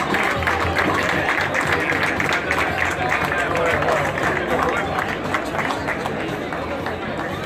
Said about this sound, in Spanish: Unos aplausos, hombre, venga.